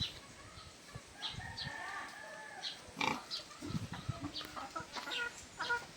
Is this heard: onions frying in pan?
no